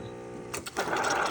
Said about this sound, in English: So this machine has a vibratory pump.